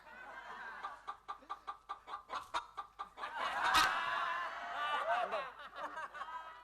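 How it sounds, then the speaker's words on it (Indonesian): A hen clucks in a quick, rhythmic series of short, close clucks, then the sound breaks into a longer, excited squawking cackle. "suara ayam petok-petok"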